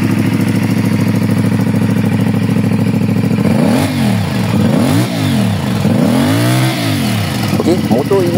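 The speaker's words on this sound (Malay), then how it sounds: "Sekarang kita nak cuba dia punya bunyi engine." A 2024 CFMOTO 450MT-X motorcycle engine idles steadily up close, then is blipped through four or five sharp revs that rise and fall in a loud repeating pattern.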